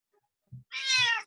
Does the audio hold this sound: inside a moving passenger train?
no